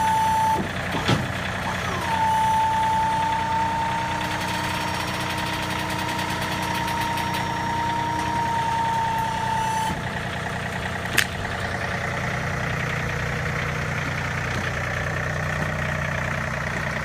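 A compact tractor's engine idles and rumbles steadily as it backs off a power tilt equipment trailer, with a high reversing beep sounding for several seconds, occasional metallic clanks and a sharp knock near the end.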